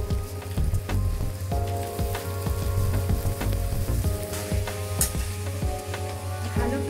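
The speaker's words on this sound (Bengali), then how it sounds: "ভালো করে নেড়ে চেড়ে মশলাগুলোর সাথে বাঁধাকপিটাকে মিশিয়ে দিই।" Boiled cabbage fries in spiced masala for a Bengali fish head curry, a steady close sizzle with stirring scrapes and clinks running throughout, no talking.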